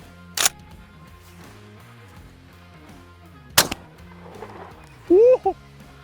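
Shotgun firing a duck load shell down range outdoors, two sharp loud reports a few seconds apart, followed by a voice reacting.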